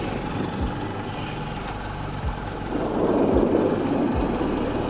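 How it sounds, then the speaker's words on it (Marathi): A car engine strains as it climbs a hill near Devrukh, a steady low drone that grows louder and heavier partway through, with no talk. "चढाव चढत आहे गाडी आमची"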